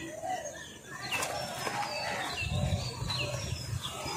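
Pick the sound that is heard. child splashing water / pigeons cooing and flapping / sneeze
pigeons cooing and flapping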